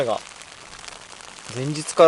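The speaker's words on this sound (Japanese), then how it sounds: "今現在も雨降ってるんで" Rain patters steadily on a tent during a bikepacking trip through the Australian outback near an Aboriginal community, a soft broadband hiss heard between brief bursts of someone talking.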